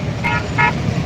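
Two short, close horn toots sound over the steady rumble of vehicles arriving at a field by the Nashik–Pimpalgaon road.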